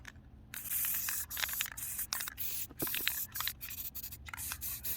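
A spray can hisses a primer coat onto a skull in short and long bursts with brief pauses, close but fairly faint, alone without talk.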